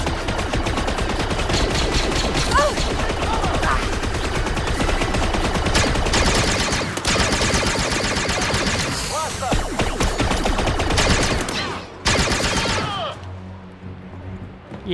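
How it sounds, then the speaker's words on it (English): Blaster gunfire from the video game Star Wars Outlaws erupts in dense, rapid volleys that overlap almost without pause, loud and close, then cuts off abruptly near the end, leaving a short, quieter tail. "Ready to fire! Opening fire!"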